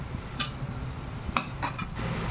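Grated carrot being dry-roasted without ghee in a cooking pan, stirred with a utensil that gives a few sharp metallic clinks and scrapes against the pan over a low, steady background.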